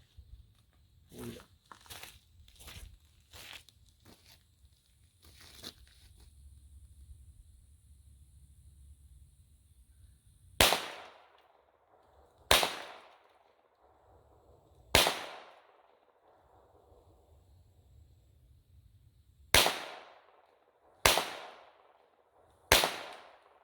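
Single sharp gunshots from a Smith and Wesson 22A-1 .22 pistol, six spaced reports with short ringing tails, loud and close, preceded by quick clicks and handling noise.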